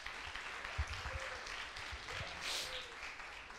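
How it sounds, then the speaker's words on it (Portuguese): A church congregation at a family worship service applauds a family, a steady wash of clapping at moderate level with a few louder hand claps and faint voices underneath. "Glória a Deus, aplaudam essa família."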